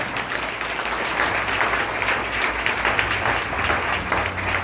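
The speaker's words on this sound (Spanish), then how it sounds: "Dale un aplauso fuerte a esa bendición." Loud, dense applause from a church congregation at a Spanish-language worship service, sustained steadily and evenly with no pauses.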